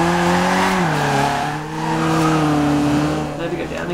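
A Mazda MX5 Miata drifting in Forza Horizon 2, its engine holding a loud, steady droning note that dips and climbs in pitch as it slides. There is no clear tire squeal over the constant engine tone.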